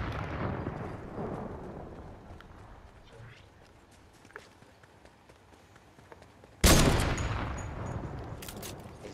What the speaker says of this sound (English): Somebody got a sniper gun. They're shooting each other.